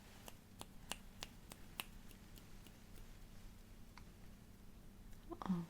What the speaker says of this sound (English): This time I'm going to be snapping my fingers and getting far away from you.